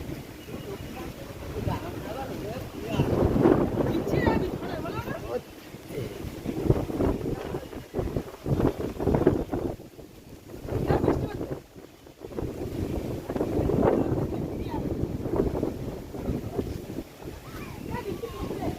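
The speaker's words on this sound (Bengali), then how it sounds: "ওটা ঝড়ের আওয়াজ।" Strong gusty wind from an approaching storm roars and buffets the microphone in uneven loud surges as trees sway, with a voice talking intermittently beneath the rushing air.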